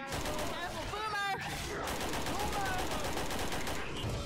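Rapid gunfire rattles continuously in Left 4 Dead 2 during a zombie fight in a custom campaign, with game voices shouting over the shots.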